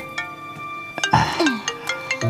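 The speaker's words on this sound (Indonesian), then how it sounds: "Ada telepon." A telephone rings with a bright electronic tone in an Indonesian drama scene. Short ring bursts repeat over a couple of seconds amid room noise.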